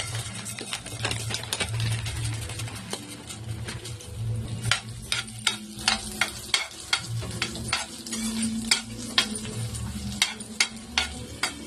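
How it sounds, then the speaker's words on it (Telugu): Coriander seeds frying and being stirred in a pan after dried red chillies, a steady sizzle with repeated sharp scraping strokes of the spoon through most of the stretch, no voices. "ఎండుమిర్చి తీసిన తర్వాత ధనియాలు వేద్దాం"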